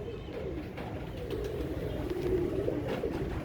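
A female Imam Deen pigeon coos with soft, low, throaty purring calls that run steadily and close, with no talk over them.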